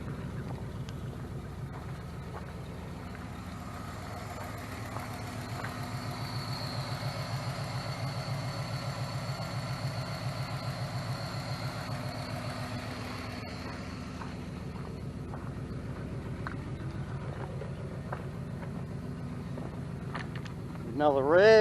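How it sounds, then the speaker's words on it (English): A Ford AU2 XR8 Tickford ute with its V8 engine idling, a steady low rumble with even pulsing that runs throughout, with a brief rise in the last second. "See, the motor's sweet as."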